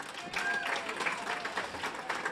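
An audience at a women's luncheon applauds, soft rolling clapping heard from a distance in a large room, with voices and cheers mingled in.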